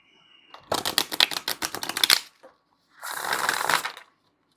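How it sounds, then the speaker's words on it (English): Tarot cards are shuffled up close: a rapid clicking riffle, a brief pause, then a second softer shuffling burst. "So let's give this a shuffle"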